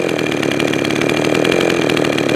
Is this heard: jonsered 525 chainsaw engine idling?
yes